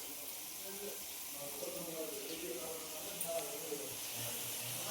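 Several fish frying at once in hot, darkened oil, giving a steady broad hiss and crackle that runs the whole time with small pops, faint and fairly close.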